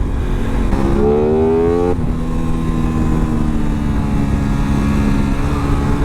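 Aprilia RS 660 sport motorcycle engine revving loud and close while being ridden on the road, with rising and falling harmonic pitch sweeps over steady wind and road roar.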